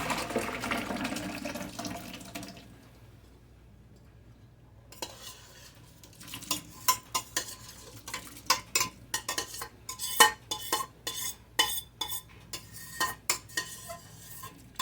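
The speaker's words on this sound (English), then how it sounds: "Sorry about the scraping sound, y'all." A metal spoon scrapes and clanks repeatedly against a pot of split pea soup with ham in quick irregular strokes, close by, after running water and a quiet pause.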